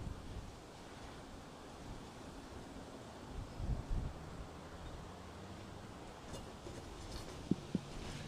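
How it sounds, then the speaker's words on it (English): Steady wind roars across the microphone outdoors at an archery range, a broad, constant rushing with faint gusts and a few small knocks, and no voices. "Man, this wind, everything's blown around."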